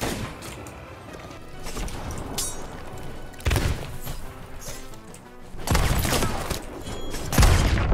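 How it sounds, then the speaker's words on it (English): Blunderbomb blasts pelt the player in Sea of Thieves, a loud ragged burst of crashing, booming impacts that recur through the stretch, heaviest near the end, over a busy game backdrop. "No, they got me with blunder bombs, dude."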